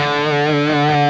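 Electric guitar playing a sustained, boosted tone with a thick, slightly distorted edge, steady and loud throughout without any talking.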